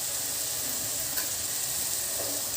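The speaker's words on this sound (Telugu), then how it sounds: "అవి వేగిన తర్వాత ఉల్లిపాయ పేస్టు, పచ్చిమిర్చి యాడ్ చేసుకోవాలి." Onion paste and green chilies sizzle in hot oil, a steady bright hiss with faint crackles running throughout, close up, with no talking.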